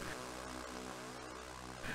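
A model airplane's engine drones steadily in the RealFlight 9.5 flight simulator game, a continuous propeller buzz with no voices over it.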